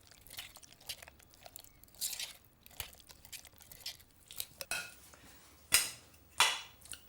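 Stirring a strained sweet corn mixture in a pan: irregular scraping and clinking of a utensil against the pan, quiet and close, with a few louder sharp knocks near the end and no talk.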